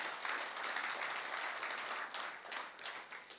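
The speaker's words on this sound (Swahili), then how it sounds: "Wapigeni makofi manze" An audience claps at a youth empowerment launch at State House, producing a sustained, dense patter of many hands that holds steady for several seconds.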